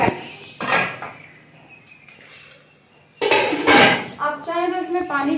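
A lid set down on a cooking pot on a stove while making ash gourd halwa: two close, fairly loud clattering knocks about three seconds apart, followed by someone speaking.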